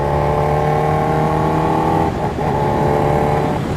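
A Kawasaki H2R motorcycle engine drones loudly at a steady pitch, dips briefly during a quick autoblip downshift, then returns to its continuous hum.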